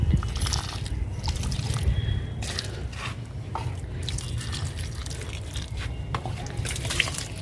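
Diluted tea water is poured onto a hibiscus plant, producing a soft, continuous trickle and splashing of liquid with scattered drips, fairly quiet and close, lasting several seconds.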